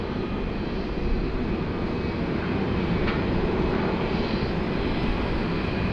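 An airliner at Sydney Airport during pushback gives off a steady, even engine drone that holds at one level throughout, heard from some distance with no talk over it.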